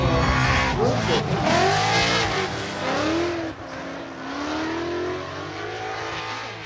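The Ranes Motorsport "Beast" Ford Mustang drift car howls around a track, its engine revving and swooping in pitch with tire noise, and a second car follows close behind. A voice can be heard over the loud, continuous racing din.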